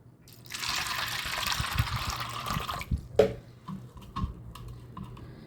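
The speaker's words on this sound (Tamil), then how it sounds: "இப்போ தண்ணி ஊற்றிடலாம்" Water is poured into a bowl of washed chana dal (split Bengal gram) set to soak for laddu, a steady splashing rush for a few seconds that tapers off into scattered drips and clinks.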